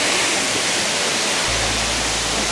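Monsoon waterfall beside Jaibai temple at Ozarde near Pune, a dense, steady roar of falling water that fills the whole scene loudly and evenly, with no voices.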